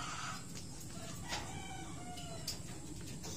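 Gamefowl chickens cluck and crow faintly in the background, a few short calls and a crow rising over a quiet farmyard hiss.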